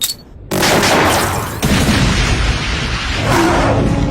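A weapon fires a shot in the Ultraman Cosmos series, Indonesian dub. Two loud, sustained blasts follow a brief quiet start: one heavy boom, then a second surging roar that rumbles on to the end.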